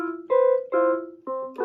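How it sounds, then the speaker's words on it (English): Four clear, breathy sustained notes from the flute voice of a Yamaha PSS-380 home keyboard, played one after another at an even pace, close and alone without speech. "And if I was to do 28, it would be a flute."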